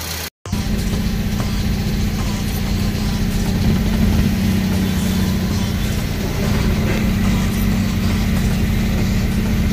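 A Toyota Vios engine runs steadily at idle after a valve cover gasket replacement, throttle body cleaning and spark plug change, a loud, even low hum that starts after a brief cut and continues alone.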